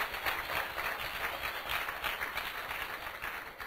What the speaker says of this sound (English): So you shouldn't be clapping.